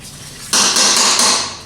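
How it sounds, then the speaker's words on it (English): A slide hammer threaded into a 4R70 transmission part, with one sharp metallic clank followed by a ringing, scraping metallic rattle that fades out; close and loud, no talking. "we're going to put a slide hammer in there to pull this out"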